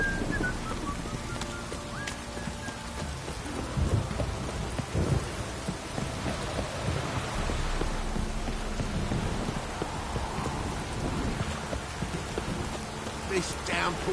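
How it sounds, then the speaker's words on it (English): Heavy downpour drums steadily throughout a rainy scene in the video game The Witcher 3, with rolls of thunder rumbling underneath and a brief sharp crack near the end. "This downpour's a bastard,"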